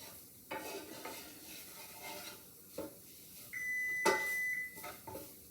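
Sausage and flour cook in a pan for gravy, a low sizzle under intermittent utensil scrapes and clinks against the pan, close by, with a brief high electronic beep partway through.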